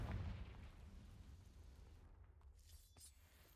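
A Confringo explosion spell cast in Hogwarts Legacy: a sharp blast at the start that decays into a rumbling, crackling tail, with a few smaller pops and shattering debris near the end.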